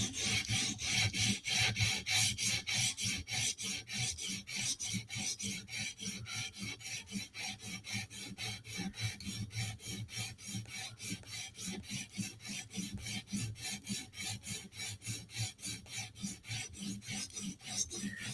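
A blade edge lightly ground during sharpening on a grinder setup with a stock collar and bumper, a steady fast rhythmic rasping scrape that pulses continuously throughout, fairly faint.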